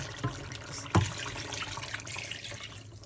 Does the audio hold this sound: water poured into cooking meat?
yes